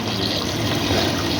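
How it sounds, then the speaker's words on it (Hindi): Water is poured steadily into a pot of cooking aloo gosht, a close, continuous splashing rush with no pause. "इसमें कम से कम 2 से 3 गिलास हम पानी का डाल देंगे"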